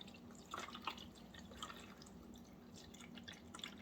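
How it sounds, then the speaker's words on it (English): Water trickles slowly into an AeroGarden hydroponic planter in a quiet indoor room, with soft, faint drips and splashes arriving irregularly and close by. "Slowly add the water."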